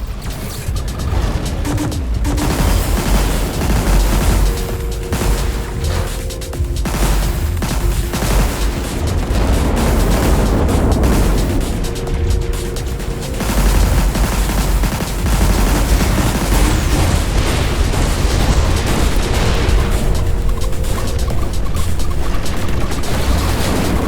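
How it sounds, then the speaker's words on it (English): Missiles deployed in Everspace 2 burst in loud, dense explosions and rapid fire, with a constant rumbling backdrop and brief tonal alert beeps between the blasts. "Attention! Missiles were deployed."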